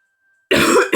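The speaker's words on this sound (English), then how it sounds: "I'm still coughing." A man coughs once, abruptly, after half a second of silence, a harsh burst followed by a brief catch and a second rasping push.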